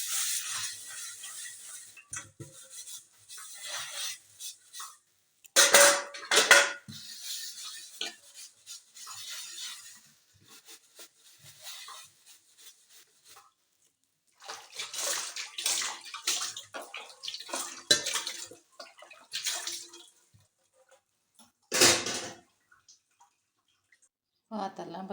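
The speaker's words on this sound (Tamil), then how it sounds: "பாத்திரலாம் இப்போ கழுவியாச்சு." Dishes and pots washed in a kitchen sink under running water, with intermittent bursts of splashing and gushing flow separated by quieter pauses of scrubbing and clinking, fairly close.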